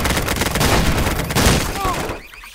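Rapid video game gunfire in a bedroom shooter session, loud dense bursts of automatic fire and booms that cut off abruptly near the end, with shouted voices mixed in.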